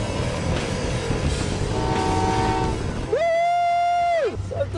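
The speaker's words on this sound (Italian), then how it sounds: "Guardate questo treno qua di fianco." A train runs close alongside in Utah, a steady loud rumble with a long sustained horn blast near the end, no other voices over it.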